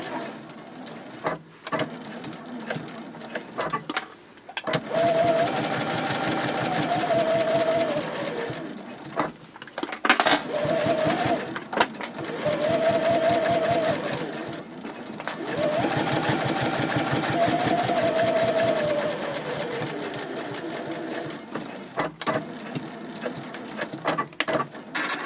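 Sewing machine stitching side seams with a 3.0 stitch length, steady whirring runs of several seconds each, broken by short pauses, close and fairly loud, with a few clicks between runs.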